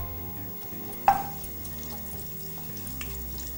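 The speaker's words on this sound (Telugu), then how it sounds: "జీలకర్ర వేస్తున్నాము." Cumin seeds sizzle in hot oil for a methi rice dish, a low steady frying hiss with one brief sharp crackle near the start, close and fairly quiet.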